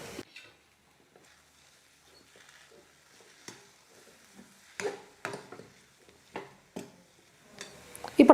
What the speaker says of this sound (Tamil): இப்போ கடைசியாக இது கூட கொத்தமல்லியை சேர்த்துட்டு நான் மிக்ஸ் பண்ணிக்க போகிறேன்